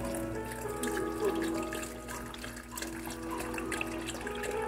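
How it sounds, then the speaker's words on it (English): Water runs from a tap into a container while making Italian beef, a steady moderate flowing hiss with faint clinks in the background. "I'm gonna add some more water to it."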